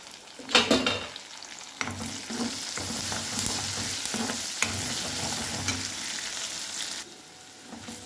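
Onions, green chillies, ginger-garlic and curry leaves frying in a pan for a paneer curry: a continuous close sizzle with occasional stirring scrapes and a brief louder spatter near the start, no talking.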